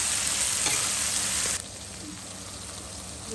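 Tomatoes frying in leftover fish-frying oil in a pan, giving a steady close sizzle that loudly crackles at first and then drops to a quieter, even hiss partway through.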